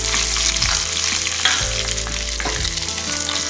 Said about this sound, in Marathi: बघा किती छान अशी फोडणी तयार झालेली आहे